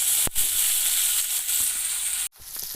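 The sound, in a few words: raw plantain slices sautéing in a pan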